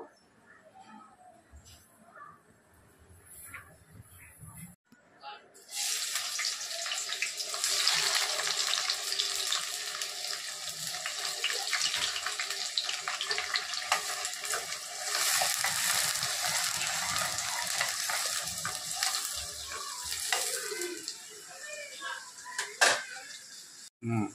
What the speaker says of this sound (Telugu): కూరకి నూనె పోసుకుంటున్నాను.